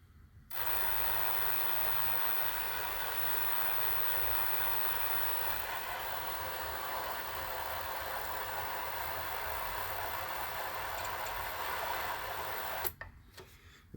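A spindle motor with a gear reduction runs steadily at an even, dense whir for about twelve seconds, then cuts off abruptly with a couple of clicks.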